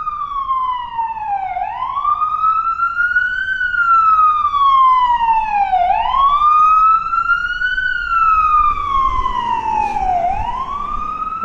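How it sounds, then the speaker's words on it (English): A loud wailing ambulance siren sweeps up and down in long repeated cycles, close by on a Brooklyn street in Bath Beach, New York City, with faint traffic rumble underneath. "We'll get the ambulance."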